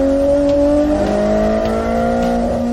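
An AZ85 car engine revs steadily, its rising harmonic whine loud and close, pitch climbing gradually with a continuous roar throughout, no voices.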